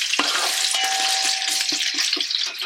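Sliced onions sizzle loudly in hot oil while being stirred, with rhythmic scraping pulses cutting through the bright, continuous crackle.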